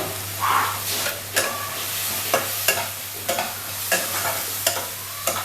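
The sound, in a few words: spices being sautéed for achari masala okra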